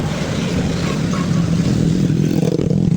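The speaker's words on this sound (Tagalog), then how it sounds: "Oh, kasi may sasakyan." A motor vehicle, car or motorcycle, passes close by on a road, a steady loud engine rumble that fills the whole moment with no voices over it.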